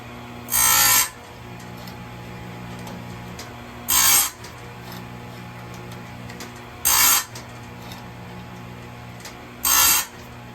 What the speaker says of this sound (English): Now I got the chain on my Stihl USG grinder.